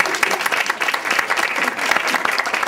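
An indoor audience at a public event claps in a burst of dense, loud applause lasting a few seconds, steady and close with no voices standing out.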